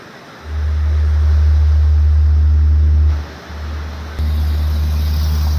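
Steady rushing noise of a river along the road near Thusharagiri in rainy Wayanad, loud and continuous, with a low rumble that drops away briefly and then returns at a lower level.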